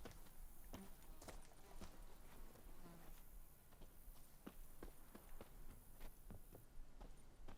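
Horse hooves clip-clop in The Witcher 3 video game, a steady rhythm of fairly faint, close steps over a quiet ambient bed with insect-like buzzing.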